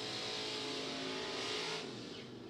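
Drag racing cars at a qualifying event, a Chevrolet Nova and a Ford Mustang, roar in a loud sustained engine blast that holds steady, then drops slightly near the end.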